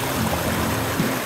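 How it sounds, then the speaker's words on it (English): A river at Johnson River Falls near Herring Cove flows in a steady, full rushing roar that fills the whole clip, close and loud, with no voices. "quiet, apart from the river obviously."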